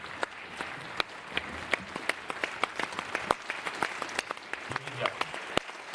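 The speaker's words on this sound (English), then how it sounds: "the Parliamentary Assembly of the Council of Europe are on their feet, clapping after a speech from the Ukrainian President Volodymyr Zelenskyy" The Parliamentary Assembly of the Council of Europe gives a standing ovation after a speech by Ukrainian President Volodymyr Zelenskyy: sustained applause from a large hall with many sharp individual claps, steady throughout and somewhat distant.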